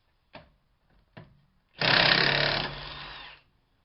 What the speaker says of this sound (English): This is almost a full charge on the high torque Milwaukee. It had an issue getting that off.